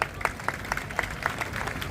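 A crowd at a street performance in Delhi on Buddha Jayanti claps and applauds steadily for a couple of seconds, with a dense patter of many hands over a low background murmur.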